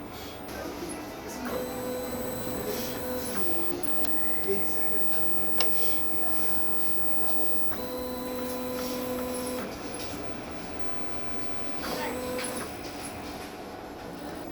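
A DTF printer runs a print head cleaning cycle, giving a quiet mechanical hum with faint whirring tones that start and stop, and occasional soft ticks and clicks.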